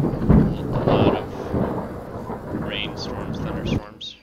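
Thunder rumbles low and loud through a rainy night storm in Skyrim, with rain hissing steadily and a person talking over it before the sound cuts out.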